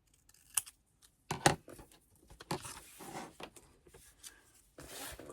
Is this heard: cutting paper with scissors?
yes